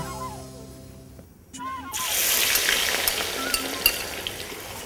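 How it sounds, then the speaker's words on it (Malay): A voice talks briefly, then a loud, steady sizzle of anchovies frying in hot oil takes over and continues with occasional pops. "Sekarang kita akan gorengkan ikan bilis di dalam minyak yang telah saya panaskan."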